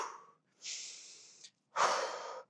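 Heavy breathing during a Pilates glutes and abs workout: two long, forceful breathy exhales separated by brief silences, close to the microphone, with no talking.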